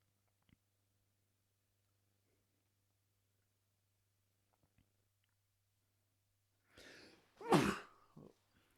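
A single sudden sneeze bursts out after several seconds of near silence, loud and close, with a short breathy intake before it and a few faint clicks earlier.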